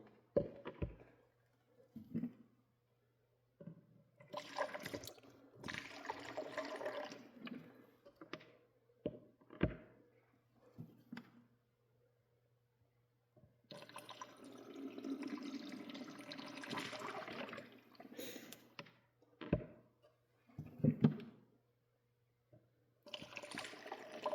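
Distilled water is poured and flushed through a car battery holding dilute acid, giving intermittent gurgling, splashing bursts of liquid with short pauses, close by and moderately loud.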